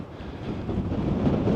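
Strong, cold wind buffets the microphone on a Scottish cliff top, a steady low roar that swells slightly toward the end, with no voices.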